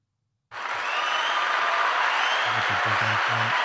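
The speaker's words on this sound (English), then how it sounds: "that's the crowd applauding because my joke was good" Crowd applause bursts in abruptly from silence and holds as a loud, dense, sustained wash of many hands clapping, with a faint low voice murmuring underneath near the end.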